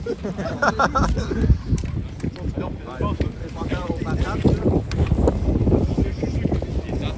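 Strong wind buffets the microphone outdoors at a mini stick hockey tournament, a loud continuous rumble and roar with a person talking underneath.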